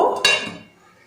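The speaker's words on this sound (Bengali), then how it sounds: "এবার এটা আমি ঢেকে দেব" A metal lid clinks down onto a cooking pot of banana-blossom curry, one sharp clank followed by a brief ringing that fades, close and fairly loud.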